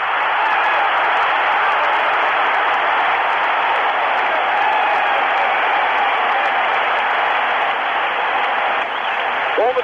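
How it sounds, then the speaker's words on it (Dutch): A stadium crowd at a 1986 World Cup round-of-16 match between Mexico and Bulgaria roars after a goal, a dense, loud, continuous wash of cheering and clapping heard from a distance. "Duizend juichen voor Manuel Negrete Arias, die na de combinatie met Javier Aguirre Mexico in de 34e minuut aan de leiding brengt."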